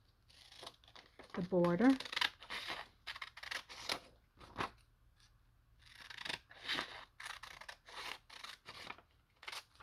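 Scissors cut through a page ripped from a book to make a bookmark, giving crisp, close papery snips and crinkles interleaved with a person talking.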